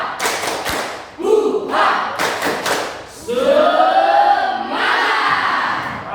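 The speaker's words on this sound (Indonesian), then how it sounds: "Kita tepuk semangat dulu. Tepuk semangat." A class of schoolchildren doing a rhythmic 'tepuk semangat' clapping cheer in an Indonesian classroom, with bursts of patterned claps and loud group shouts and chanting between them, close and lively.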